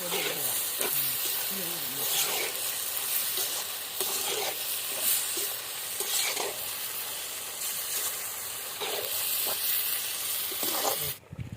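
Lamb intestines fry in a pan over an outdoor wood fire for a village-style dish, giving a loud, steady sizzle broken by regular scraping stirs roughly every second or two.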